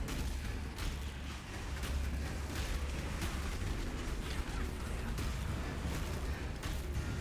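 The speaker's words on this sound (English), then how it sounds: "Oh, explosion." Explosions and booming bursts from the action game Path of Exile, played during necromancer map farming, form a dense, continuous roar with repeated sharp impacts and no pauses.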